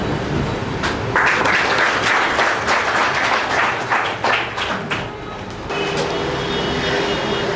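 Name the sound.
audience round of applause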